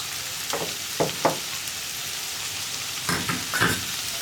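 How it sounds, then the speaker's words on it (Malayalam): Onions frying in a pan for Kerala egg curry, stirred after a pinch of salt goes in: a steady close sizzle broken by several short scraping strokes of the spoon, with no talk. "ഇതിലേക്ക് നമുക്ക് കുറച്ച് ഉപ്പും കൂടി ചേർത്തിട്ട് ഇളക്കി കൊടുക്കാം"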